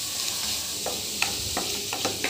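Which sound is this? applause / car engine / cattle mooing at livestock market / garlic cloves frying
garlic cloves frying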